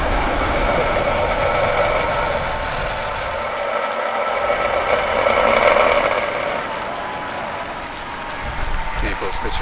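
SpaceX STP-2 rocket launch after ignition, a broad, sustained rumbling roar that swells and holds for several seconds, with a voice talking over it.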